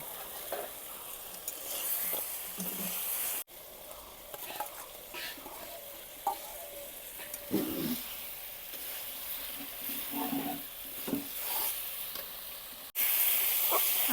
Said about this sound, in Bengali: আলু বেগুনটাকে একসঙ্গে কিছুটা সময় বাজিয়ে নিলাম